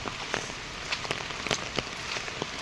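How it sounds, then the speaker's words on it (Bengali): Heavy rain pours steadily around a village road with trees, a dense hiss of drops striking surfaces with scattered louder splashes, close and continuous, with no one speaking. "চারিপাশে বৃষ্টি, খালি বৃষ্টি, জল, কি একদম পুরো বৃষ্টি বৃষ্টি হয়ে গেছে"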